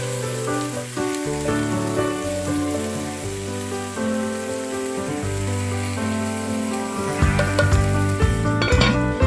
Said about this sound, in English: sauté the garlic and cook beef meatballs for 20 minutes